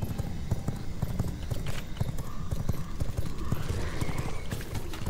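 Horse hooves clip-clop steadily in a video game, a continuous rhythmic trotting close by, mixed with game ambience and occasional whinny-like tones.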